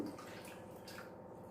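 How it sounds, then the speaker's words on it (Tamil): Water being poured into a bowl of rava dosa batter for onion rava dosa, a steady splashing, gurgling stream that runs close and continuous for the whole moment with no talk over it. "இப்போ இதில் நம்ம அஞ்சு கப்பு தண்ணி ஊற்ற போகிறோம்"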